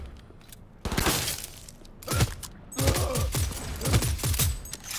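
Pistol fire in Cyberpunk 2077, a string of sharp close shots in uneven bursts, some cracking rapidly one after another with brief gaps between volleys.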